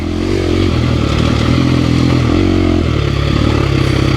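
A dual sport motorcycle with power upgrades rides on a grippy surface, its mid-pitched engine droning steadily and loudly for the whole stretch with slight shifts in revs and some clatter mixed in.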